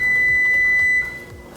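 An oven signals it has finished preheating with one long, loud, steady electronic beep that cuts off after about a second, leaving quiet kitchen room tone.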